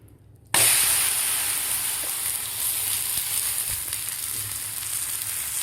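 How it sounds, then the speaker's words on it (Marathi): A thalipeeth flatbread of soaked green moong and spinach hits a hot pan with a sudden burst of sizzling, then frying steadily with a bright hiss throughout, close and fairly loud with no talking. "दुसरं सुद्धा आपल्याला अशा प्रकारेच भाजून घ्यायचं आहे."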